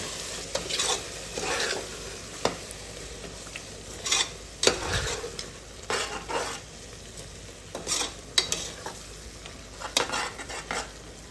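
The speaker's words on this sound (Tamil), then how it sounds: "தயிர் ஆட் பண்ணிக்கோங்க கொஞ்சம் சால்ட் எல்லாம் போட்டு நல்லா மிக்ஸ் பண்ணிவிடுங்க" Yogurt and salt being stirred into mushroom biryani masala in a pan, with soft sizzling under a string of spoon scrapes and clinks against the metal at an uneven rhythm, close and clear, no talk.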